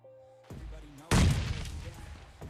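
Gunfire in the BGMI battle royale game, a loud burst of shots erupting suddenly after a quieter stretch, then rattling on and decaying with further smaller shots, mixed with faint game background sounds.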